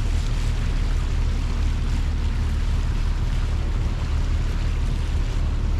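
A sailboat with mainsail up runs under motor across calm water with barely any waves, a steady low engine hum under constant wash of water and light wind.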